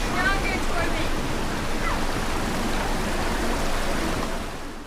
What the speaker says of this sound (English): the water is coming out farther down from the head and gushing up from below the rocks